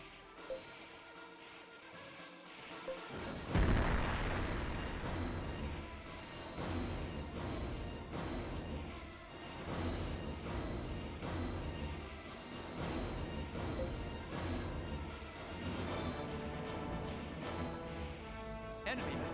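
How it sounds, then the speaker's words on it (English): An artillery barrage in the space strategy game Infinite Space: a sudden loud burst at about three seconds gives way to dense, continuous rumbling and crashing that runs steadily to the end, with faint voice or music underneath. "Enemy has begun a barrage."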